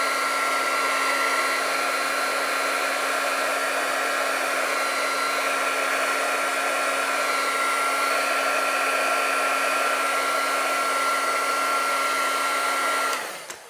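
A heat embossing tool blows steadily to melt embossing powder on a die-cut piece, a constant close whooshing hum with a faint whine that runs unbroken and then cuts off at the end.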